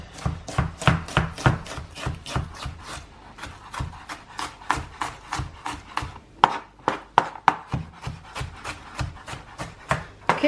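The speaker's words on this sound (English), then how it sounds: "And then we'll just chop this onion quickly." A knife chops an onion on a board in a fast, even rhythm of close, crisp strokes, pausing briefly midway before the chopping resumes, with no talk.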